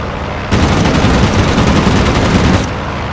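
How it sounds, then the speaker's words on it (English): Sustained rapid gunfire in a video game, a dense burst of automatic fire lasting about two seconds over ongoing background game noise, loud and close. "I'm getting shot at pretty good"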